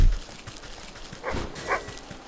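Two short dog barks or yips from the video game Wytchwood, moderately loud and close, set against a low, steady game background.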